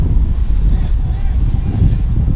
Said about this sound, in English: A very windy evening here.